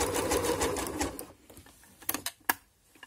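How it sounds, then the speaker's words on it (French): A sewing machine runs a zigzag seam on a lycra band, a dense, steady mechanical whir for about a second and a half, then stops, leaving a few sharp clicks and taps. "Donc là je passe à ma deuxième couture."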